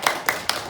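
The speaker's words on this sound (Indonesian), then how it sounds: "beri tepuk tangan untuk kita semua" Short burst of applause for students in a school classroom: a few separate, sharp clap-like hits spaced unevenly over under a second, fairly close, with no talk.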